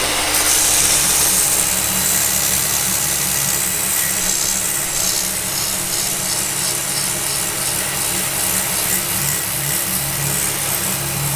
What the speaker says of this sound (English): a lot of it just by sticking with sandpaper